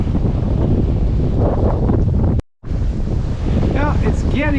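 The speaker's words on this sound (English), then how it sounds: "I suspect that most of this is sea breeze, because on a nice sunny warm day the islands make their own wind" Strong sea breeze roars steadily across the microphone while sailing east of Mount Desert Island, Maine, with water rushing and splashing along the hull, a brief dropout midway and a voice faintly audible near the end.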